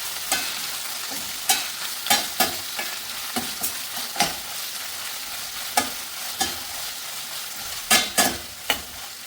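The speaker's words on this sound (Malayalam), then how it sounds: "പിന്നെ ഇതിലേക്ക് പിന്നെ ചതച്ച കൂട്ട് ഇട്ട് കൊടുക്കാം. എന്നിട്ട് വഴറ്റിയെടുക്കാം." Crushed shallots, ginger, garlic, bird's eye chillies and curry leaves sautéed in a pan with dried red chillies for Kerala chicken thoran: a steady sizzle broken by repeated sharp spatula scrapes and taps.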